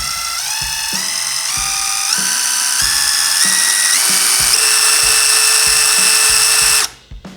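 A Stanley SBI 830 impact driver runs under a held trigger, its whine stepping up through rising speed stages toward a 3200 rpm maximum in a steady, loud, close run with rhythmic impact pulses, cutting off abruptly near the end.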